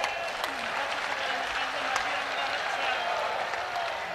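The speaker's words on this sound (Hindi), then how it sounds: "यदि आपको अनुकूल हो तो ठीक से ताली बजाइए।" Audience clapping at a large Hindu religious gathering, a dense sustained burst of applause from a crowd, fairly distant and steady throughout with voices mixed in.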